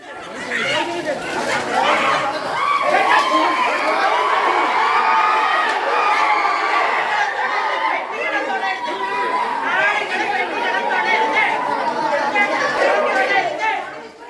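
An agitated crowd surges toward the judges' office after a disputed competition result, with dense overlapping shouting, yelling and excited chatter, loud and sustained throughout.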